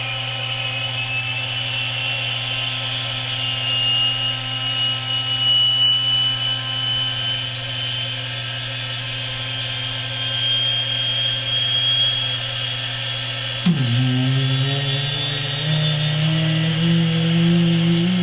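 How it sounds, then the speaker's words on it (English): A jet engine on startup: a steady droning hum and high whine hold for several seconds, then a sudden shift as deeper tones lurch and begin climbing while the engine starts to spool up, loud and close. "Let's fire it up."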